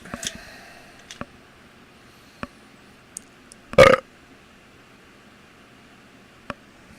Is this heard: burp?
yes